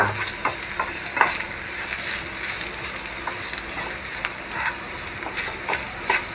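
Chili powder frying in hot oil in a pan over lowered flame, giving a steady close sizzle with scattered spatters and stirring scrapes, no voices.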